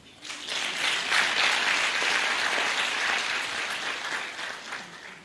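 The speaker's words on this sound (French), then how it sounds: "C'est là où vous applaudissez." A crowd bursts into applause, rising quickly after a brief quiet start, then holding as a thick, even roar of clapping that slowly tapers toward the end.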